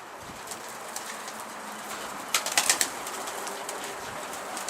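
Pigeons coo softly at a rooftop coop, and a short burst of wing flapping comes about midway, close and fairly loud over faint background noise.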